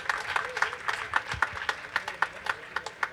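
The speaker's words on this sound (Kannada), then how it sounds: "ನಿಮ್ಮ ಜೋರಾದ ಚಪ್ಪಾಳೆ ಬರಲಿ ಅವರಿಗೆ." Scattered clapping from a small audience at a Kannada book release event in Bengaluru greets the chief guest, with sparse, rhythmic claps that are moderately loud and continue throughout.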